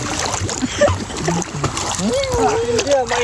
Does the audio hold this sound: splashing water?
yes